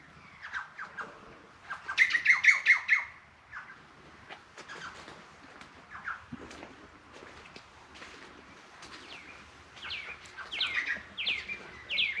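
Birds chirp and call outdoors in a cactus garden, with a burst of rapid trilled notes early on and scattered tweets later over faint background rumble.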